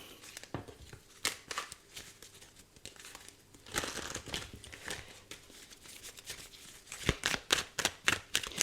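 Tarot cards shuffled and drawn from a deck by hand, a string of crisp papery riffles, snaps and crinkles close by, quiet at first and then a quick run of louder card flicks at the end, with no talking.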